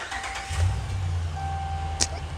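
A Dodge Ram 1500 pickup engine starting during an air-conditioning repair: a low rumble catches about half a second in and settles into a steady idle, with a thin electronic tone and a short click nearby.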